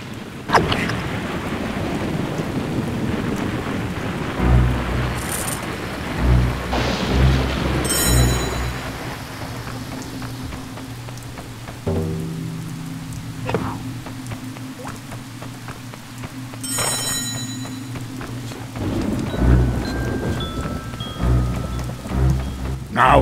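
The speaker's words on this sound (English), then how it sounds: "Ah, this dratted rain." Rain and thunder in The Hobbit video game: steady heavy rainfall patters throughout while several loud rolling thunder cracks break in and fade.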